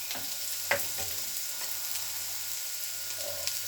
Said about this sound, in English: So we stir fry that for about 2 minutes, 1 to 2 minutes.